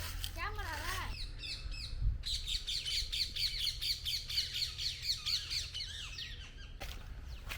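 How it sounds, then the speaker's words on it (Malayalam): Many birds squawk, chirp and call along a rural walking route in India between Papanasam and Thiruvaiyaru, dense rapid overlapping calls close by, with a brief break and faint background hum. "ഒരുപാട് പക്ഷികളുണ്ട്"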